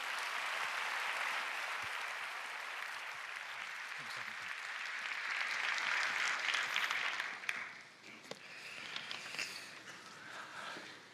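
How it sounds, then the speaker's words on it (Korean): Warm audience applause at a church prayer gathering, a steady, full wash of clapping for over seven seconds before it thins into a few scattered claps and footsteps. "환영의 마음을 담아 힘찬 박수로 맞이하겠습니다"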